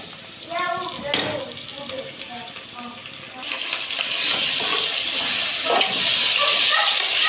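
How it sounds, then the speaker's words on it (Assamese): Onion, ginger and garlic paste frying in a pan for pulao, a steady sizzle that grows denser and louder in the second half, with a voice talking over it in the first few seconds. "এইপিনে পিঁয়াজ ভজা হৈ গ'ল এইপিনে দিছোঁ আদা নহৰু খুন্দি থোৱা আছিলে"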